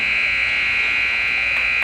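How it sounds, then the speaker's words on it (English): Ice hockey arena buzzer ending the first period of a youth game, one loud, sustained, piercing electronic tone that runs unbroken for the whole moment. "And the buzzer sounds for the end of the first period"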